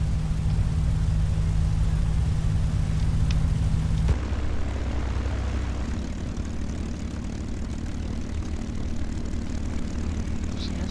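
A P-51D Mustang's propeller engine rumbling steadily while taxiing in the A2A flight simulator, a loud, continuous droning hum that drops to a lower, rougher note about four seconds in and carries on alone with no talk.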